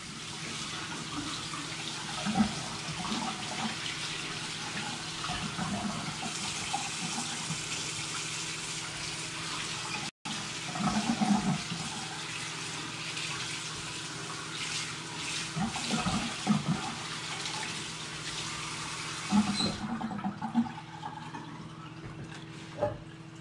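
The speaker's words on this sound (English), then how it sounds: "I'm going to rinse them off with cold water." Water runs steadily from a cold tap with splashing and gushing as trout is rinsed beneath it, ending in a short quieter patch.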